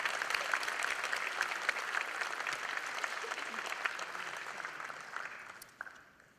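A banquet audience at a chamber of commerce awards dinner claps for the winners, dense sustained applause that fades out near the end.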